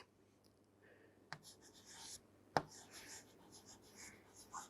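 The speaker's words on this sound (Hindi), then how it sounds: "तो हम लिखेंगे" Pen strokes scratch lightly on paper while notes are written, soft intermittent scribbles with two sharp taps, quiet and close, without speech.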